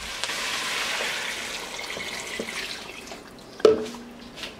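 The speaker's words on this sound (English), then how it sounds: "and I'm going to add the water." Water pours into a stock pot holding frozen broccoli as a steady, moderately loud rush that fades after about three seconds. A single clunk follows near the end.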